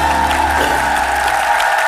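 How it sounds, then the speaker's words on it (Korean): Studio audience applause on a Korean TV variety show, a dense, even wash of clapping from a crowd, loud and continuous with a low background hum beneath. "민경양이랑 우리 구지엽 씨가 박수 참 많이 쳤어요"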